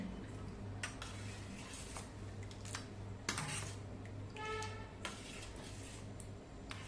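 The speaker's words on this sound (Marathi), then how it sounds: "आता आवडीनुसार हा भिजवून ठेवलेला सब्जा घालूया. सगळं छान हलवून घेऊया." A spoon clinks against a glass or jug while stirring watermelon sharbat with soaked sabja seeds; sparse, quiet metallic taps and light scrapes in a calm room, no voices.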